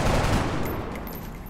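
Gunfire in the XCOM Enemy Within video game, a dense burst of shots at the start that decays into a noisy rumbling tail over about a second and a half, with no voice over it.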